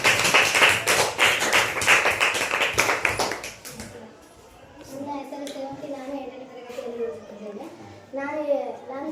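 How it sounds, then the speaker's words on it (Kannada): Schoolchildren in a classroom clap for a classmate called up to tell a story, a dense burst of quick hand claps for about four seconds that fades into quieter chatter and a voice speaking. "ಚಪ್ಪಾಳೆ ಬರಲು ಸೇವಂತಿಗೆ"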